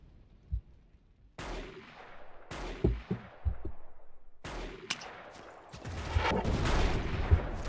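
Gunfire in the Battlefield game as Croat forces shoot in the Mostar battle: isolated sharp shots at first, then clustered bursts building into a dense, sustained volley toward the end.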